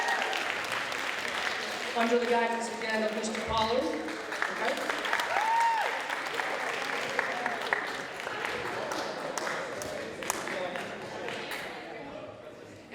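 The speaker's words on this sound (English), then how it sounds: "Project Lead the Way students, give yourselves a big round of applause." Applause for Project Lead the Way students at a school STEAM expo, a steady broadband clatter of clapping running the whole time under a speaker talking over a PA.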